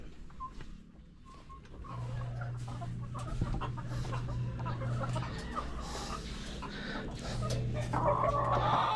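Chickens cluck steadily inside a coop, with a low hum underneath and brief, denser flurries of clucking near the end, recorded close by with no talking.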